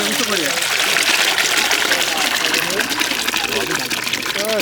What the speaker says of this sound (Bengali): ডালটা রান্না হয়ে গেছে, ডালটা আমরা ঢেলে দিলাম।